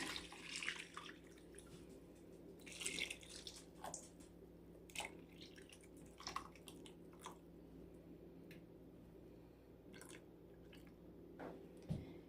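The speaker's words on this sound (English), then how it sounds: "Next, I'm adding heavy cream." Heavy cream poured into a pot of pasta and sausage in a home kitchen, a soft liquid trickle and splash with scattered drips and small clinks, faint and close, with no talking.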